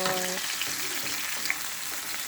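Food fries in a pan over turned-down heat while making ackee and saltfish, a steady close sizzle with faint crackles throughout the short stretch and no talk.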